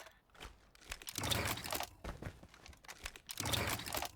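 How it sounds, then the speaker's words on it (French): A DP-27 weapon being picked up in a video game gives short crinkly mechanical rattles in two brief bursts, quiet and close. "Un bruit quand on la prend."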